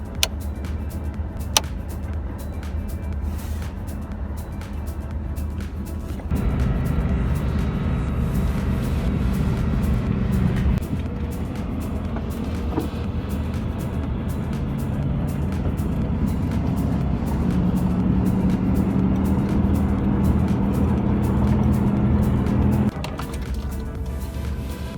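A pickup truck loaded with building supplies grinds up a snowy dirt road toward a trailhead, its engine droning steadily from inside the cab and shifting in load as it climbs, with a few bumps and knocks early on.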